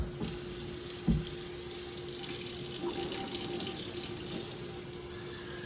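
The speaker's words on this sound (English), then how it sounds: "I gotta put water in here." Tap water runs steadily and close by to fill a coffee maker, a constant splashing hiss with one small knock near the start.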